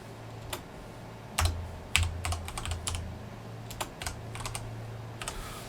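Typing on a computer keyboard, with scattered clicky keystrokes in short bursts and single taps at a quiet level, close by over a low background hum, with no voices.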